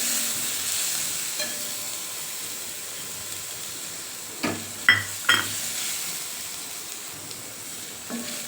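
Spice masala sizzles and fries steadily in a pan as asafoetida goes in, with a few brief scraping stirs and clinks standing out from the constant hiss.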